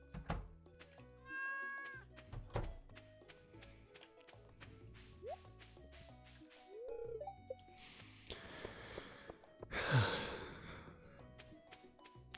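Several short cat meows in Stardew Valley come at intervals, mixed with soft taps, thunks and a breathy sigh, forming a quiet, close, intermittent scene without talk.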